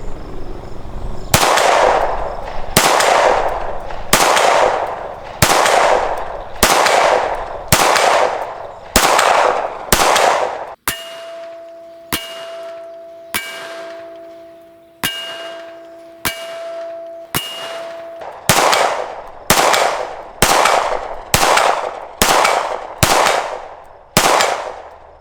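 STI Staccato XC pistol shots at a 50-yard accuracy test, about twenty loud, sharp reports fired at a steady, deliberate pace with brief gaps, each followed by a short ringing decay, plus a faint metallic ring partway through.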